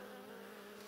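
Bees buzzing in a steady, dense drone around beehives outdoors, a continuous mid-pitched hum with no voices.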